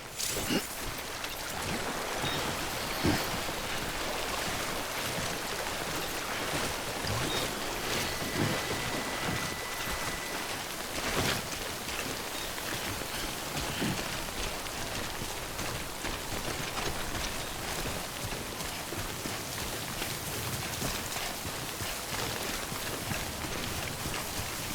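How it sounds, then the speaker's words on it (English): Steady rain pours down in Death Stranding, the game's timefall rain hissing in a dense, continuous wash with occasional faint rumbles, filling the scene without any voices. "Don't stay out in the rain any longer than you have to."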